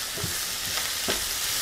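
Garlic and meat sizzle in a pan on a switched-off stove, cooking in the residual heat with a steady hiss and a few soft stirring scrapes.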